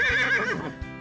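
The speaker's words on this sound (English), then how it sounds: "There are horses," A horse on a farm gives a single loud, quavering whinny that falls in pitch, with a soft hoof thud near the start and another near the end.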